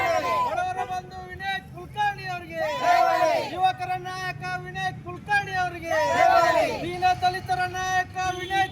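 Congress supporters celebrate in Dharwad with cheering and rhythmic chanting of slogans, a loud, continuous crowd roar rising and falling in waves close by.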